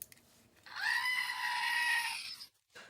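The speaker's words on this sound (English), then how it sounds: "Screaming goat, just for you." A screaming goat effect plays as a single loud, drawn-out human-like scream lasting about two seconds, then cuts off abruptly.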